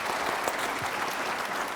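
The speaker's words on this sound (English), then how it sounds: "So can we give a big round of applause, please, for Nicholas and Roger?" Audience applause at a London launch event for electric trucks, steady dense clapping from a crowd filling the room, loud and continuous throughout.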